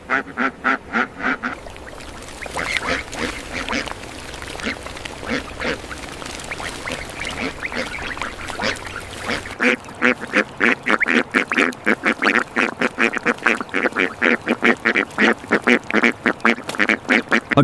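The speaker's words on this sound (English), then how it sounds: "Every day, hundreds of ducks on this farm will be herded into the more than 5-acre pasture." Hundreds of farm ducks on a pasture quack over and over. Their calls start out scattered and overlapping, then build into a loud, steady, rhythmic chorus of rapid quacks close by.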